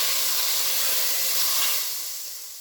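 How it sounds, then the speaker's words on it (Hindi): Hot oil tempered with Kashmiri red chili, poured as tadka over chickpeas, gives a loud, bright sizzling hiss that fades over a couple of seconds. "अब मैं इस पर डालूँगी तड़का।"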